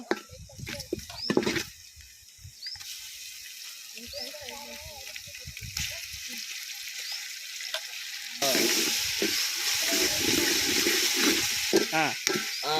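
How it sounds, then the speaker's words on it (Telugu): Onions and ginger garlic paste fry in a pan with a steady close sizzle that swells louder partway through as the paste goes in, with occasional stirring. "ఇప్పుడే వేగుతున్నాయి, కొద్దిసేపు వేగనిద్దాం."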